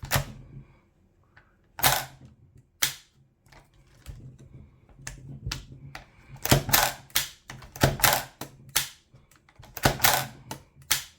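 Sharp mechanical clicks from a Krytac Kriss Vector gas blowback airsoft gun fitted with a Hephaestus piston upgrade, dry-firing without a bang; a dozen or so crisp snaps at an irregular pace, close and loud, with no talking.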